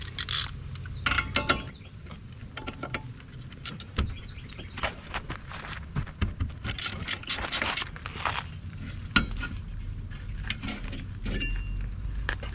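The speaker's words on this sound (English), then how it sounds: "Next, you got to remove this caliper. It has two 17 millimeter bolts on the back." A wrench works the two 17 mm brake caliper bolts on a 1996 Suzuki kei truck, producing close ratcheting clicks, metal scrapes and clinks in irregular bursts, with no one talking.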